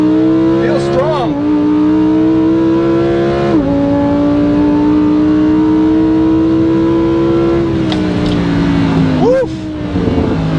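A 2020 Lamborghini Huracan EVO RWD launches hard with traction control off, loud engine roar climbing through gear changes as the tires spin, recorded close from inside, with a voice talking over it.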